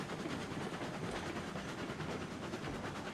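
Train rolling along the track in the Railroad Online video game, a steady, fairly quiet rumble with a faint rhythmic clatter and no talking.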